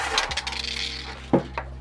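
Keys jingle and clink inside a backpack pocket in a stretch of light metallic rattling, ending with a couple of sharper clinks, close and moderately loud.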